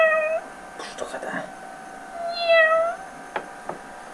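A cat meows repeatedly while being offered choice meat, with several drawn-out calls near and clear, and occasional soft knocks alongside.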